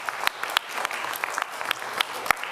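Scattered applause from a church congregation during a homily, individual claps standing out sharply and unevenly, moderately near and loose rather than a dense roar.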